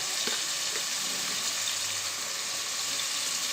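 Sliced onions fry with salt in a pan for egg biryani, producing a steady, even hiss of sizzling oil, close and unbroken, with no voices.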